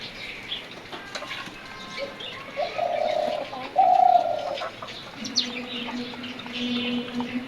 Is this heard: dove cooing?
yes